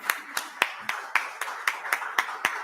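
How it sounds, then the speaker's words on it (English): Applause at an entrepreneurship event, heard as a few sharp, evenly spaced hand claps in a steady rhythm, close and distinct rather than a dense crowd roar. "you deserve another round of applause"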